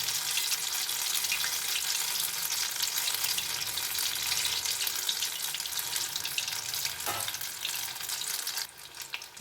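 Paneer pakoda deep-frying in hot oil, a dense continuous sizzle and bubbling close up, with a brief clink or stir near the end as the frying quietens slightly.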